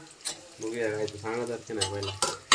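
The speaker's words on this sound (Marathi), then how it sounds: "हा तळतो वडे तळतो" Vadas frying in hot oil for a festival feast in a Konkan home kitchen, a steady sizzle with stirring clatter running under close, continuous talking.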